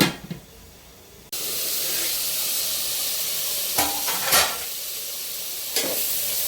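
Mushroom curry with tomato fries in a pan, giving a steady loud sizzle and hiss after a quieter start, with a few brief clatters of stirring.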